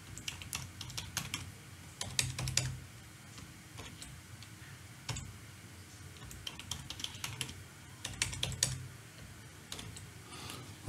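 Someone typing a password on a computer keyboard during a CentOS 7 Linux install, with bursts of quick, close key clicks separated by short pauses, steady low background hum underneath.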